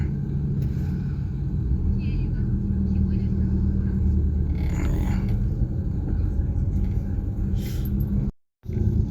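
A Hyundai car crawls through a traffic jam on a road trip around Mount Sindoro near Wonosobo, giving a steady low engine rumble and road noise that runs without a break until a short sudden dropout near the end.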